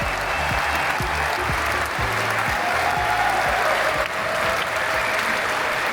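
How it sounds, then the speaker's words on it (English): Audience at a live event at EartH Hackney breaking into loud, sustained applause and cheering, dense clapping filling the room with a few whoops on top. "it's a very, very lovely cheer"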